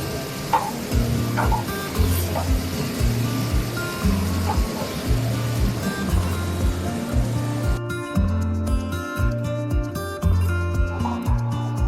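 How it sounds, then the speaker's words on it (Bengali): Chopped onion, chili, tomato and curry leaves fry in a pan for red lentils, a steady hissing sizzle running underneath a looping rhythmic music track. "আর কুচিয়ে রাখা পেঁয়াজ, লঙ্কা, টমেটো, কারি পাতা দিয়ে আমি একটু ভেজে নেব।"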